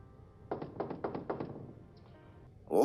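Six quick, fairly faint knocks on a door in an even rhythm, followed by a short pause and then a voice at the very end.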